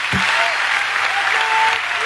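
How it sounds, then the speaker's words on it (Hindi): An audience at a public gathering in Tikamgarh applauds the pandit, a loud, dense, continuous clapping that fills the whole stretch with no break. "अब यहाँ का एक बार इनको, पंडित जी को जोरदार ताली बजाई जावे।"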